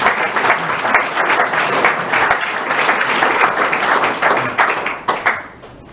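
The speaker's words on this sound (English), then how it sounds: "maybe a round of applause for Richy to thank you" A room of attendees at a UK assisted dying law event claps warmly, dense applause that holds steady for several seconds before thinning out to a few last claps and fading to quiet.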